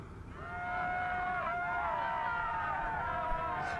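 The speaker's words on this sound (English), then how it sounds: "Sounds like the most royalty-free cheering ever." Cheering crowd from Star Wars: The Old Republic on Hoth, a steady massed roar of voices with a few higher harmonic shouts rising over it, loud and continuous throughout.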